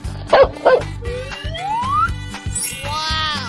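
Two quick dog barks ring out over a bouncy rhythmic backing track, followed by rising whistle-like electronic tones.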